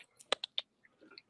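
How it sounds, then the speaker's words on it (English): Sharp, faint clicks in a quick irregular cluster, like keys or a mouse being tapped during a video call, with no talk over them. "Hopefully, this clicking noise stops."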